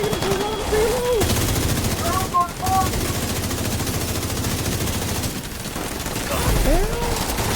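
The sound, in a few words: gunfire in a Ubisoft video game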